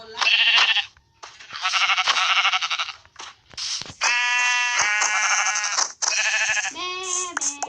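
Sheep in the Minecraft video game bleat repeatedly in short, loud, close calls that follow each other with brief gaps, several overlapping near the end.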